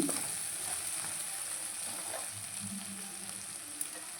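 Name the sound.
frying onion masala in oil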